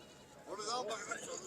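A single goat bleats at a Talagang livestock market, a short wavering cry close by, with crowd speech and flies faintly in the background.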